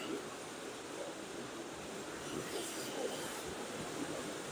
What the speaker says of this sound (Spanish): Aquí está el jacuzzi.